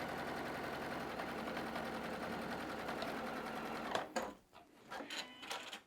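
A sewing machine runs a steady quarter-inch seam on a quilt block, a continuous close whir for about four seconds that stops and leaves a few short clicks and fabric handling.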